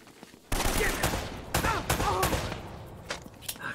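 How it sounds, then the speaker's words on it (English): Gunfire in the video game Uncharted: Drake's Fortune erupts as a sudden loud fusillade of rapid shots, with several sharp bursts in close succession over a dense, rumbling battle backdrop. "They're shooting at you too"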